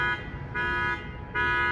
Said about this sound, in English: Someone's sensitive alarm can't handle the friction of other vehicles passing by.